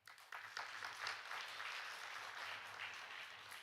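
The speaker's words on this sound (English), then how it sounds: "another round of applause to the speaker" A conference audience applauds a speaker with steady, even clapping that starts abruptly and holds at a moderate, somewhat distant level for a few seconds.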